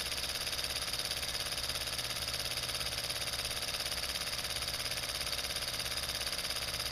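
A model steam engine runs at 8 psi with a fast, even mechanical chuffing and whirring, a steady close rhythm that holds at constant loudness throughout with no pauses.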